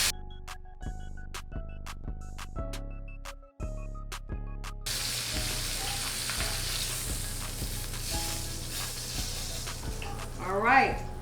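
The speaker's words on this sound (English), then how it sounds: "I'm gonna just sear it on the side." A New York strip steak sears on its side in a hot pan, giving a steady close sizzle and hiss after some opening clatter, with talk nearby.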